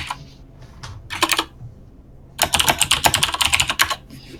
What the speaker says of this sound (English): I apologize about the keyboard typing here.